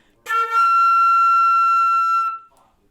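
A single sustained high E natural on flute, clear and steady for about two seconds with a soft breathy onset, played alone.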